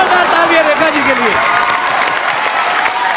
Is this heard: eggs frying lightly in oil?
no